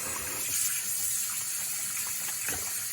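Tap water runs steadily into a sink while hand-dyed yarn is rinsed, a continuous, close hissing gush with no talking.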